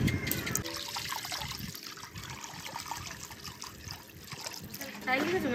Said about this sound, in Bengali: দুধটা আবার ঢেলে দিই।